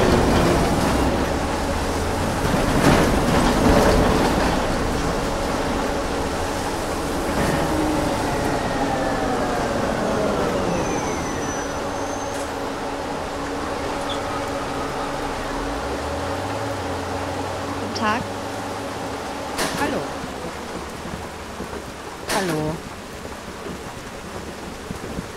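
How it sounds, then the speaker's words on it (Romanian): Heavy rain pours with thunder rumbling, a dense continuous roar with low booming swells and occasional sharper bursts, loud and close throughout. "Bă, bă, dar ce plouă"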